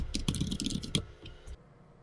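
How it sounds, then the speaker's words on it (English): A few sharp keystroke clicks on a computer keyboard, closely spaced then trailing off, ending with a final press, close and fairly quiet with no voices. "and I'll click on enter."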